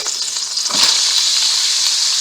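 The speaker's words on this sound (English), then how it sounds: "You're going to hear the sizzle." Hot dogs sizzle on a hot pan, a steady loud hiss that swells after a short soft start and then holds even and close, with no talking.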